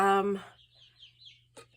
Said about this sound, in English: the little chickens are going nuts